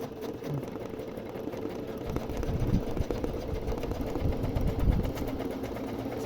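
A domestic embroidery machine stitches steadily, a continuous mechanical whirring and rapid needle chatter with no one talking.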